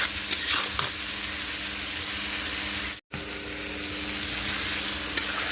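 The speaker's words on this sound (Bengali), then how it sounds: "আমি এর মধ্যে হলুদ লঙ্কার গুঁড়ো আর নুন দিয়ে ভালো করে আবার এটাকে একটু আমি কষিয়ে নেব" Fish frying in a pan with turmeric, chili powder and salt, a strong continuous sizzle with stirring scrapes, briefly cut off by a moment of silence before resuming.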